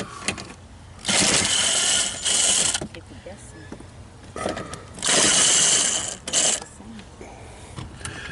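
Ratcheting socket wrench working screws loose during a car dashboard swap, a clicking ratchet run heard close up in three bursts of about a second or two each, with quiet pauses between.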